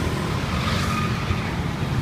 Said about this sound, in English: make no sudden movements, and cars and bikes will go past you